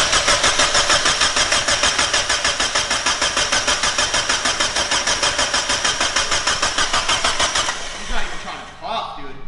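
Car engine cranking over and over without firing, a steady rapid starter rhythm lasting about eight seconds before stopping, close and loud, with brief talk near the end.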